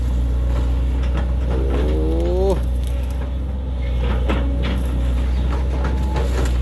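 A SANY SY135C long-boom excavator clearing a canal runs with a steady low diesel drone, a rising hydraulic whine climbing briefly in pitch, and intermittent clanks, heard close while someone talks over it.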